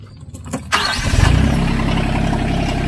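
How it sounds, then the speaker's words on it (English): An RK25 tractor engine starts up: a few short cranking bursts, then the diesel catches with a rising roar and settles into a steady, loud, throbbing idle close by. "So I'm going to start up the tractor"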